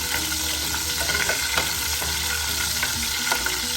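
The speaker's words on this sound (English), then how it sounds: "Once the garlic starts cooking" Whole garlic sizzling in a pan over medium heat, a steady close crackle and hiss with a few faint stirring clicks, heard alone without speech.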